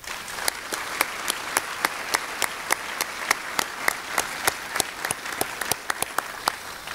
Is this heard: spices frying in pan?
no